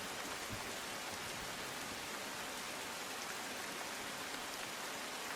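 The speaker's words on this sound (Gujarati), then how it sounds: "મુશળધાર વરસાદ વરસી રહ્યો છે" Heavy downpour in Vapi, Valsad district, during monsoon flooding: a dense, loud, unbroken roar of rain on surfaces fills the whole stretch, with no voices.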